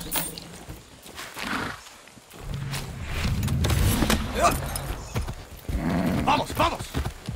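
A horse in the video game Far Cry 6 gallops with rhythmic hoofbeats and gives a whinny near the end, while a voice talks over much of it.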